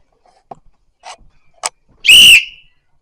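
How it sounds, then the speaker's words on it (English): Whistle blown once in a loud, shrill blast lasting about half a second, preceded by a few soft, faint taps and thuds in a quiet room. "I'm just about to walk around and just blow the fuck out of this whistle"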